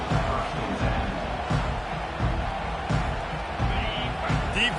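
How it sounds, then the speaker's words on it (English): A stadium crowd roars at a football game, a loud, sustained din with periodic thumps and bursts of cheering rising and falling over several seconds. "listen to this crowd roar"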